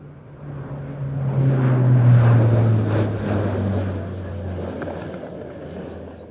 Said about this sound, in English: This is the stretched version of the C-130J, the most modern and most capable variant of the Hercules family.